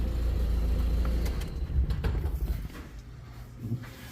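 Classic Toyota engine still running on the fuel left in its carburetor bowl after the fuel pump is switched off, a close, low idle rumble that softens and gets a little uneven toward the end.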